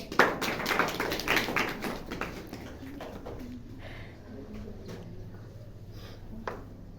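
A burst of group clapping up close, dense and uneven at first, then thinning into scattered claps and room noise.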